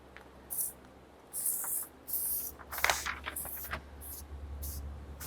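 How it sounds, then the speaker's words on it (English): Several short bursts of hissing aerosol spray, each lasting under a second, with brief pauses between them and a steady low hum underneath. "I'm just going to spray this on"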